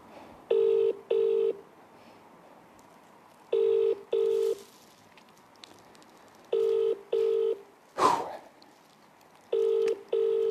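A phone call placed during a draw for a Lamborghini Urus: a steady double-burst ringback tone repeats four times at even intervals, clear and close, broken by one brief noisy crackle between rings.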